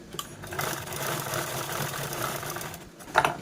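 A sewing machine runs a line of stitching along the other side of a bag handle made from blouse-piece fabric, a steady mid-level mechanical hum that ends with a short, sharper burst.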